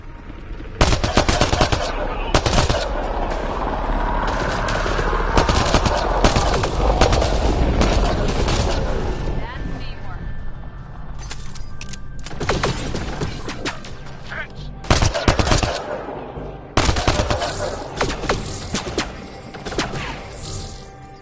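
Mass Effect: Andromeda combat with dense, loud rapid-fire weapon bursts and single shots, close and continuous, broken by brief lulls. A voice speaks over the fighting.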